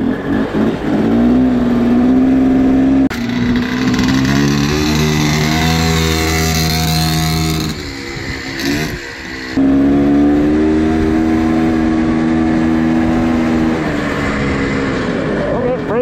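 Vintage Honda Odyssey dirt track race car with its small engine revving hard nearby, a loud steady buzzing drone that rises and holds, dips briefly near the middle, then surges again.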